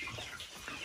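Chickens cluck softly inside a henhouse in a short, steady burst of fowl chatter with no voices over it.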